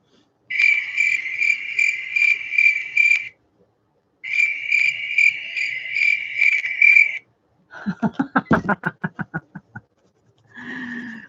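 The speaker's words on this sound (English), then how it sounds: "Do you hear crickets?" Repeated bursts of high, rapid cricket chirping in pulsed trains with a pause between, followed by a short run of croaky frog-like calls.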